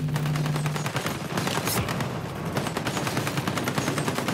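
Sustained automatic gunfire in Ghost Recon Breakpoint during a raid boss fight, with rapid repeated shots rattling continuously for several seconds at steady loudness.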